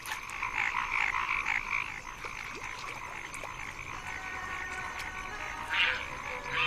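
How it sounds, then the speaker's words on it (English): Chorus of male paddy frogs calling in a southwest China wetland, dense overlapping croaks and trills running steadily throughout, fairly near, with a louder burst of calls near the end and no talking. "Male paddy frogs call out to attract a nearby female"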